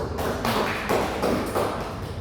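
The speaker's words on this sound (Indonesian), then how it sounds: "Beri aplaus." Students in a classroom give a short burst of applause, a quick flurry of claps lasting about two seconds at moderate level, with no talk over it.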